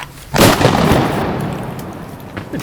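A single loud shotgun blast fired at a duck during a waterfowl hunt, with a sharp onset and a long rumbling decay rolling away outdoors.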